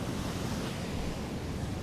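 Sea waves breaking and surging on a beach at Holland-on-Sea in the UK, a steady close roar of surf with wind rumbling across the microphone, no voices.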